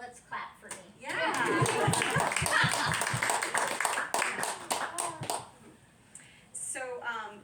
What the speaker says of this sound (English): Let's clap for me.